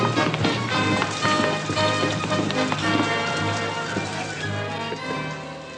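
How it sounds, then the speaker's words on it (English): Rain pouring steadily outside on a period western homestead, a dense hissing patter that stays loud and continuous, gradually easing slightly toward the end. "Hey, everybody, it's raining outside."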